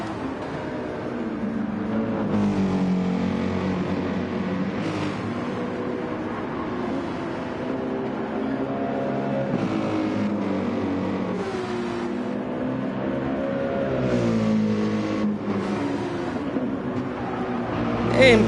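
A Mercedes-AMG GT race car engine roars continuously at Watkins Glen during an 8-hour endurance race, its pitch rising and falling through shifts, with commentary voices running underneath.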